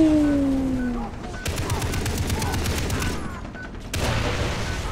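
Turret gunfire in Far Cry 3 rattles out in rapid, sustained bursts, a dense fusillade that starts after a brief lead-in, pauses, then resumes loudly near the end.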